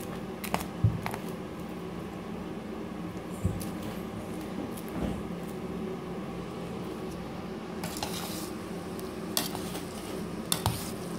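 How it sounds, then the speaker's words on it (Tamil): Cooked rice being stirred with a spoon after seasoning is poured in for lemon rice, giving a steady soft scraping and mixing sound with occasional clinks of utensil against the pot, fairly close, with no talking. "இப்போ இதில் சாப்பாட்டில் இதை ஊற்றிடலாம் ஊற்றிட்டு அப்படி நம்ம கிண்டி விட்டுலாம்"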